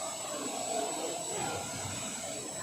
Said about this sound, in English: You hear it wind up just like a jet engine tractor.